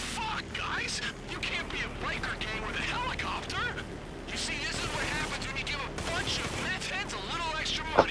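Gunfire in GTA Online, sounding as a dense run of shots and impacts mixed with game noise, with people talking over it throughout and a sharp louder bang near the end.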